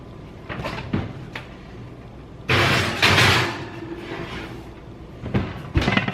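A cheesy squash dish slides into a home kitchen oven at 350 degrees and the oven door thuds shut, one loud broadband clunk in the middle framed by smaller knocks and rattles before and after.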